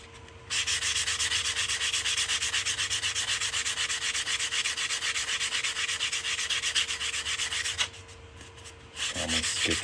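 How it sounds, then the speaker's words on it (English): Steady abrasive rubbing of sanding on the cut edge of a metal coin ring, continuous and close for most of the stretch, with a brief pause near the end before the scraping resumes. "I didn't sand this cut edge."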